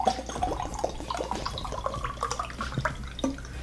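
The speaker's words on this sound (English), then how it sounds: "Let's pour it in the glass" Cannabis-infused citrus water pours into a wine tasting glass with a continuous trickling, splashing gurgle, close and fairly quiet, with no talking.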